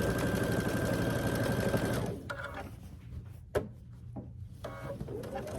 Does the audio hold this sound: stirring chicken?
no